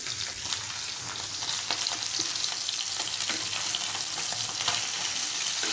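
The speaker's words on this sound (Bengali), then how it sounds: "এই যে দেখছেন মাছ ভাজলে আমি একটু দূরে দূরে থাকি" Fish frying in oil in a pan on a rural clay stove, with a steady, close hiss and crackle and small pops scattered through it.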